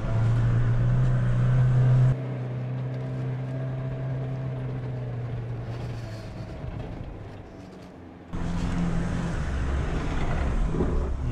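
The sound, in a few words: Mahindra Thar off-road vehicle driving uphill with momentum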